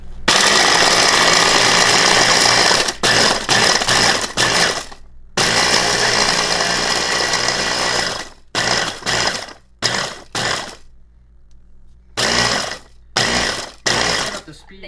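A food processor whirs loudly in a home kitchen in repeated bursts, long runs at first then shorter pulses separated by silent pauses, close to the microphone.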